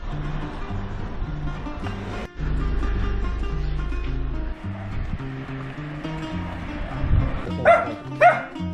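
A dog barks at a roadside cafe in Cernache on the Camino Portugues in Portugal, a couple of short, fairly close barks near the end over steady background noise.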